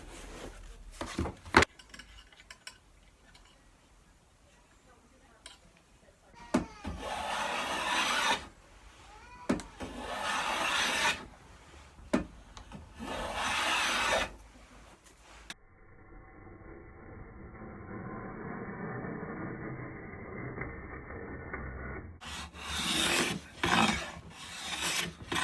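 Repeated rasping strokes of a hand plane shaping a wooden guitar fretboard, close up, in uneven bursts with short pauses, then a steadier muffled stretch before more strokes.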